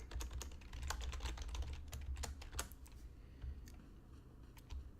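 Rapid, continuous typing on a computer keyboard, with close and fairly quiet clicks in a busy burst that thins out toward the end.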